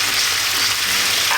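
Pork-wrapped tomato and cheese rolls sear in a pan, giving a steady, close, bright sizzle that stays even and continuous with no talking.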